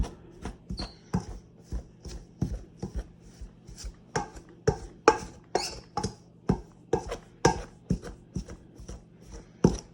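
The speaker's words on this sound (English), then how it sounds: "you just keep cutting this butter into this until you get it all fine and coarse looking like that." Butter being cut into flour in a bowl for buttermilk biscuits, a close, steady series of sharp chopping taps repeating about twice per second throughout.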